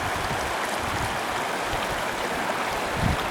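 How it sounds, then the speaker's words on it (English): A creek in Blue Canyon, Blackcap Basin rushes steadily nearby, a dense, even wash of flowing water with no pauses and no voices. "Came over to the creek to get some water."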